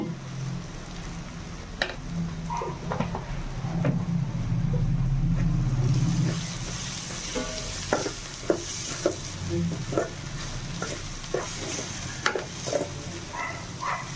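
Eggs frying with chili powder for Telugu egg bhurji, stirred in a pan; a steady sizzle runs under repeated sharp spatula scrapes and taps against the pan, close and uneven, with no talking.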